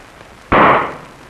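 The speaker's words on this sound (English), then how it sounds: "sufficient static is generated to ignite the explosion tube" A static spark ignites a flammable mixture inside an explosion tube, producing a single loud, close whoomp with a sharp onset that decays over roughly half a second, heard alone.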